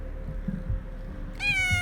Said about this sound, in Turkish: Burada da bir tane kedimiz var.